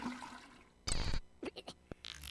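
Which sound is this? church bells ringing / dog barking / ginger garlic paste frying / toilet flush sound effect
toilet flush sound effect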